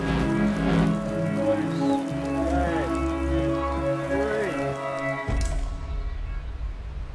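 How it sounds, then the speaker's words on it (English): Steady rain falling outdoors on a clear day during a BASE jumping outing in the U.K., a continuous hiss under a loud low drone and other background noise. "It's clear, but it's raining."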